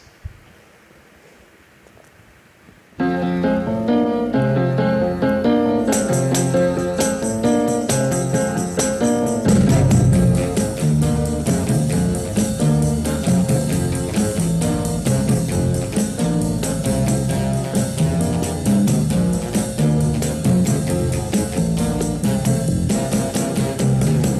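After a quiet few seconds, an early Motown hit starts playing loudly, an upbeat old soul pop song with driving rhythm, piano and vocals continuing steadily.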